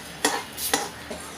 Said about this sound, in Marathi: माझ्या धण्यांना पटपट आवाज यायला लागला आहे, म्हणजे ते व्यवस्थित भाजले आहेत।